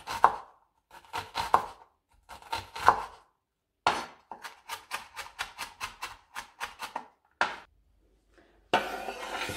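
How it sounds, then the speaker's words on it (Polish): A knife finely dices an onion on a wooden board for a broccoli salad: a few spaced, sharp chops, then a quick run of about a dozen rhythmic cuts, close and clear. "Cebulkę będziemy siekać w drobną kostkę."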